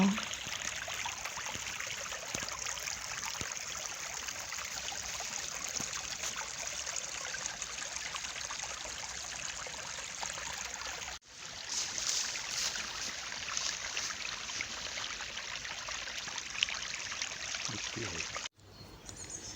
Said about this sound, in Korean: 물소리가 참 좋습니다.